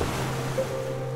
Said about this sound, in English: This wind, this sea-starting breeze